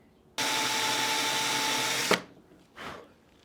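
A power drill bores into a hard Type 81 rifle receiver for scope mounting, a loud steady whine for about two seconds that stops abruptly, followed by a short quieter burst.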